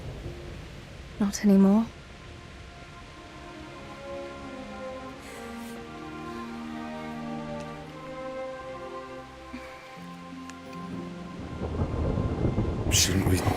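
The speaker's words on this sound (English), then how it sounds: "Not afraid of thunderstorms, are you?" Steady rain patters through a thunderstorm in Kingdom Come: Deliverance, with a sharp thunder crack early and rumbling building toward the end, while a voice speaks briefly and faint music plays underneath.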